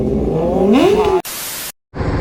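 A 390 motorcycle pulls up in Raipur, Chhattisgarh, its engine note rising in pitch as it revs, then cut by a sharp burst of broadband noise and a brief dropout before rumbling again.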